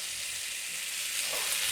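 Chilli chicken frying in oil in a pan, a steady broadband sizzle that swells slightly louder toward the end, close and continuous with no voices.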